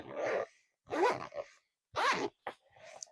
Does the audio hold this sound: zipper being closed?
yes